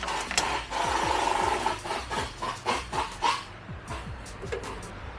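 Pliers working a removable race car door hinge on a Nissan GT-R: close metallic scraping and rasping that comes in uneven bursts, then a few sharp clicks near the end, with no talking.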